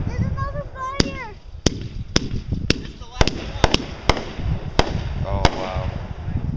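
Outdoor fireworks shoot at Woodruff Narrows Reservoir, Wyoming: sharp loud cracks and bangs burst at irregular intervals, about a dozen reports, with excited voices and whistling sounds between them.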